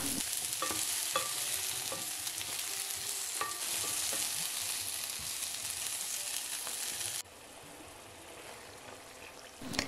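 Vegetables and leaves fry in a pan for a potato curry, with a steady sizzle and a few brief stirring scrapes. The sizzle drops quieter near the end.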